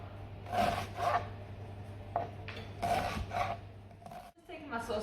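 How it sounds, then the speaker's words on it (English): Knife cutting vegetables into large chunks on a chopping board for a sausage and bean casserole, a few separate rasping cuts with pauses between them, close and fairly clear over a steady low hum. "I'm just going to cut down maybe just 3 strips across the way and either 2 or 3 the opposite way."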